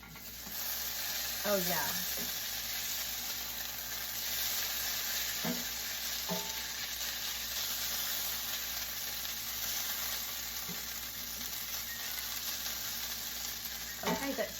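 Breakfast food sizzles steadily in a skillet throughout, with a few sharp scraping stirs scattered across it and a brief remark from a person partway in.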